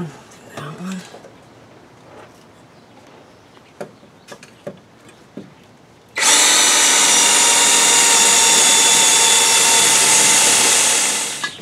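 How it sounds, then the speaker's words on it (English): A power drill boring a series of smaller holes to enlarge an opening, starting after some clicks and handling noises, then running loud and steady for about five seconds before winding down. "we're running a series of smaller holes and then try to bust it out that way"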